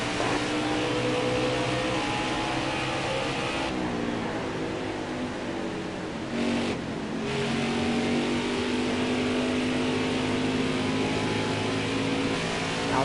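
NASCAR Xfinity Series stock cars on the final lap at Phoenix Raceway, engines roaring loud and sustained at high revs, pitch shifting as the cars pass, with no voices over them.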